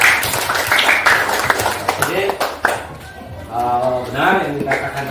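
Classroom students clap their hands in scattered, sharp bursts near the microphone, and a teacher's voice talks over and between the claps.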